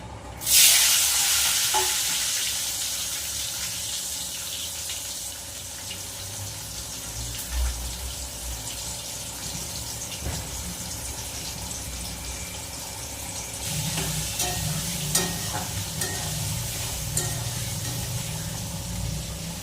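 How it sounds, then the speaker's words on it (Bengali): Chopped tomato frying in a pan gives a continuous sizzle as a utensil stirs and scrapes through it, with a sharper burst as the tomato goes in and clinks and splashy water-like sounds in between. "হালকা ভাজা ভাজা হয়েছে এবার দিয়ে দেব কেটে রাখা টমেটোটা"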